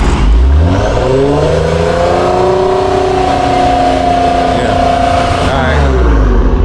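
V6 Dodge Challenger engine heard from behind the car, climbing into one long sustained rev and then dropping back to idle, loud and near.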